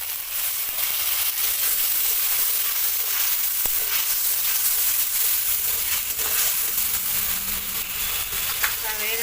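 Potatoes sauté with spices, ginger paste and cumin powder in a pan, giving a steady, loud sizzle that continues throughout with faint stirring scrapes.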